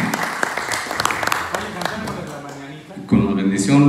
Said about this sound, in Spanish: Fuerte el aplauso para todos ustedes.